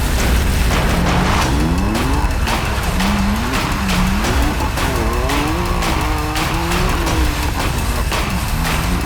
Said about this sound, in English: he said he's gonna do 10 donuts without any problems